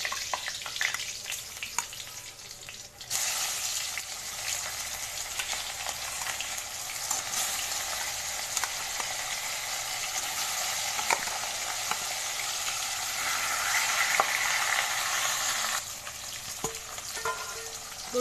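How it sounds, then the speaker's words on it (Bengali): Fish frying in oil in a pan, in oil already used for frying pointed gourd and papaya, gives a steady, close sizzle that runs unbroken and grows slightly louder toward the end, with no voices. "দিয়ে দেবো ওর মধ্যে মাছ ভাজতে।"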